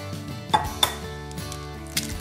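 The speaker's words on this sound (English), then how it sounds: "So I'll break the eggs in here." Eggs crack sharply against a bowl while crepe batter is prepared, giving a few distinct taps and clicks over a quiet kitchen background.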